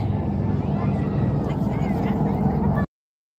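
A helicopter passing overhead outdoors in Bangladesh, a loud continuous low rotor and engine rumble that holds steady for about three seconds before cutting off abruptly.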